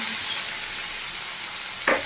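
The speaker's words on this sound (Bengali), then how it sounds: "সর্ষে বাটাটা আমি এর মধ্যে দিয়ে দিচ্ছি।" Ground white and black mustard paste goes into radish frying in oil for a vegetarian curry, a dense steady sizzle ending in a brief louder burst near the close.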